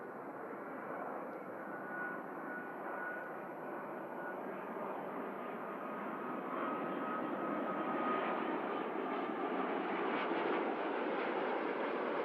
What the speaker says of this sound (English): Awesome touchdown from a beautiful aircraft.